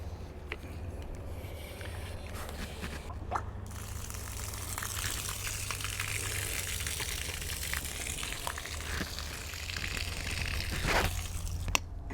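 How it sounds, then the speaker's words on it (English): Water gushing from an RV park spigot left open to flush dust out of the system, a steady hissing, splashing flow with a low rumble, close and continuous, with scattered drips and knocks. "Now we're going to turn on the water spigot and just flush the system for 2 to 3 minutes."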